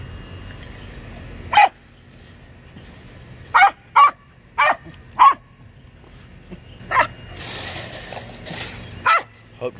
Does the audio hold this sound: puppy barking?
yes